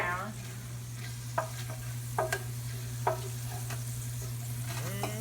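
Garlic and fresh basil leaves sizzle in a pan for an Italian Sunday sauce, with a steady low frying hiss and occasional sharp scrapes and taps of a utensil stirring the pan, close by and without talk.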